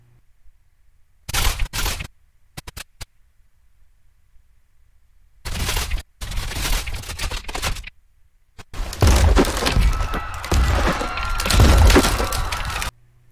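A wooden column aboard a sinking ship cracks and snaps in layered sound design, with several loud splintering bursts separated by silent gaps, the last one long and heavy with deep rumbling.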